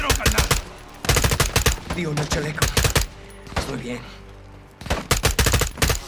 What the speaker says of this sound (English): Get your cover and return fire!